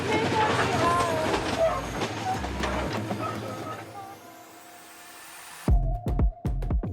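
Train carrying passengers, some riding in the driver's cabin, rumbling along the rails with a steady rolling clatter and voices mixed in, then a few loud heavy knocks and thumps near the end.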